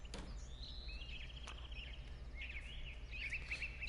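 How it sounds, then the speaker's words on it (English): Birds chirp and trill through a Farming Simulator countryside scene, a string of thin, high whistling calls repeating over a steady low rumble, moderately distant and alone. "Can hear all the birds out here,"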